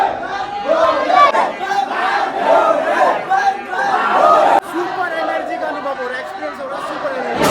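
Pilgrims crowd the Mahakaleshwar temple in Ujjain, and their many voices merge into a dense, loud, steady hubbub of chatter and calls close around the listener.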